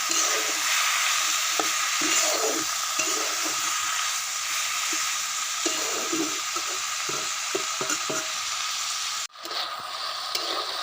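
Rohu fish with green banana and papaya sautéing in a pan, a steady close sizzle with scattered stirring scrapes, briefly cut off near the end before resuming.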